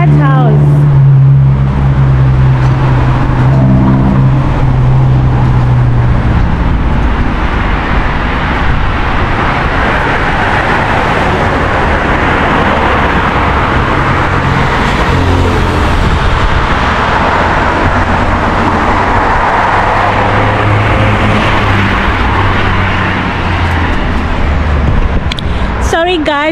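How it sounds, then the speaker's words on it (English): Busy main road in Cape Town, with loud, continuous traffic: engines rumble close by and vehicles pass one after another, with talk over the roar. "this is the main road, so it can be very busy because of traffic"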